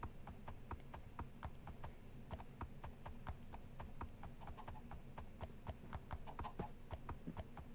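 Donkey hooves clip-clop in a video game as a steady, evenly spaced run of sharp hoofbeats, quiet but clear, with no talk.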